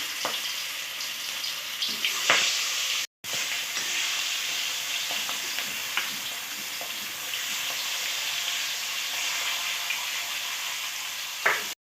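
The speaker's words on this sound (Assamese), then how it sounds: "এয়া গোটেইখিনি মাছ ভাজিব দিছোঁ।" Steady, loud sizzling of fish frying in hot oil for Assamese fish curry, a continuous crackling hiss with a brief drop out partway through.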